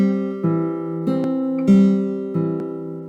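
A guitar plays the opening two bars of Kuffner's Pastorale as plucked notes that ring over each other, with clear, separate attacks at an even, unhurried pace. The sound is close and solo.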